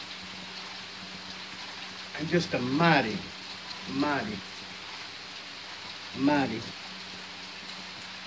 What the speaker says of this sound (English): It's a drizzling rain.